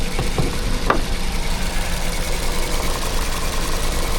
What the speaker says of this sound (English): Well, I see an engine, little 4-cylinder.